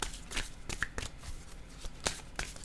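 Tarot cards shuffled by hand before a draw, giving a series of soft, close riffling and tapping bursts at an uneven pace with no talking.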